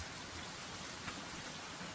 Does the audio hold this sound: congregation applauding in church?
no